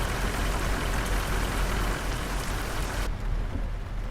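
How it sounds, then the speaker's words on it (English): Heavy rain pours steadily in Euro Truck Simulator 2's Scandinavia expansion, a loud, dense, unbroken hiss with no voices. "This looks like it's more of a heavy rain."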